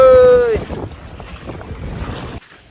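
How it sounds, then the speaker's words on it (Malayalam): A boat moves on open water in strong wind, with steady broadband wind and water rush throughout; a loud tonal whine fades in the first half second, and the sound drops off abruptly near the end. "ബോട്ട് അവിടുന്ന് വരുന്നുണ്ട്."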